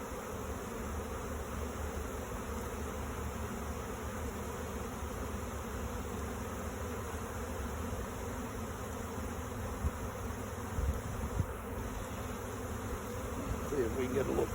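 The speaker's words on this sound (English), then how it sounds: "This looks like this is most definitely a primary swarm" A primary honeybee swarm pours out of a hive during an inspection, a loud continuous drone of countless bees close by and all around, with faint handling noises near the end.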